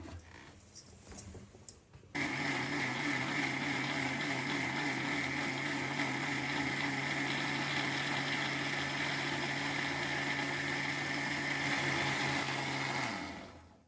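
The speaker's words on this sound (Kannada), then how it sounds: "ಇವಾಗ ಮಿಕ್ಸಿಗೆ ಹಾಕೊತಾ ಇದ್ದೀನಿ ಇದನ್ನು" A kitchen mixer grinder whirs steadily as it blends roasted sprouted grains with tomato, a loud, even motor drone that kicks in after a few soft clicks and runs for about ten seconds before stopping.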